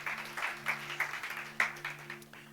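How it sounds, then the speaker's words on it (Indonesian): A small church congregation claps in rhythm during a worship service, a light, steady pattern of rather faint claps at a moderate pace over a low constant hum. "Berikan tepuk tangan buat Tuhan Yesus."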